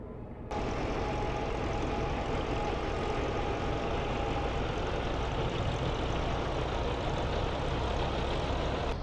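A Robinson R22 helicopter engine in MSFS2024 with its clutch engaging, a loud, steady low drone that starts abruptly and holds evenly throughout, with no voices.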